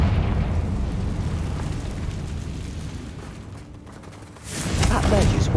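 A Confringo spell explosion in the game Hogwarts Legacy: a sustained, rumbling, low blast that slowly fades, then a fresh surge of booming energy near the end.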